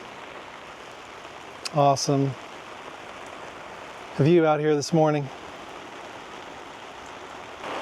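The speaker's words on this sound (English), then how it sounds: "Rain's coming down a little heavier now" Steady rain hisses throughout at a Jeep campsite at Apache Lake, a constant wash of falling drops, while a person speaks briefly in a couple of short phrases over it.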